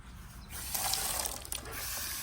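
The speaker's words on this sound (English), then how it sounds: "So I'm going to fill this thing with water" Water runs from a tap into a container, a steady close splashing rush that builds quickly and holds.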